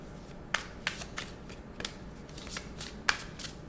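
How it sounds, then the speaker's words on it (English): Tarot cards riffle and snap in quick, irregular bursts, close up in a quiet room. "Let me lift the camera a little so you guys can kind of see me shuffling here"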